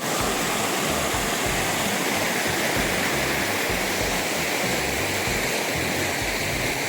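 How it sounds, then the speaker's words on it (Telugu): A continuous roaring rush of Sariya Waterfall, loud and close, with no pauses and no voices. "వాటర్ ఎలా పడుతుందో"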